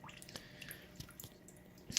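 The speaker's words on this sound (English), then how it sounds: "I might turn down my dripper a little bit." A water dripper in a paludarium lets fall soft, close drops at an irregular rhythm, faint and alone over a quiet background.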